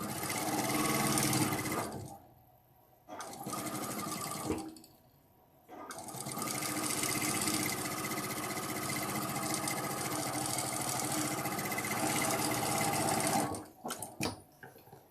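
A zigzag sewing machine stitches a quilt, its motor whirring in long steady runs broken by two brief pauses, then stopping with a few short bursts at the end.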